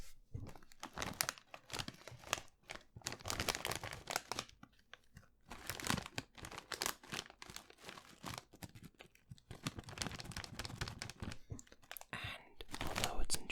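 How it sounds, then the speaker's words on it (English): Crinkling and rustling of a plastic bag of German pepper-flavoured crunchy crisps, close and loud, with bursts of crackle and crunch throughout, under intermittent talk. "It's a bag of crisps."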